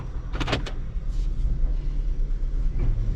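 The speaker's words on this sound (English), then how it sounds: "Start it right up. Motor sounds good." A rebuilt Acura TL engine runs at a steady idle, a low, even rumble close by, with a few quick clicks and rattles near the start.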